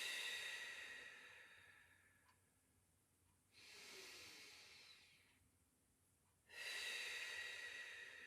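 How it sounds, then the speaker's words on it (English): Deep breathing during a Pilates exercise: two long, airy exhales a few seconds apart, close and soft, with a quiet pause between them and a third breath starting near the end. "So keep going with that breath."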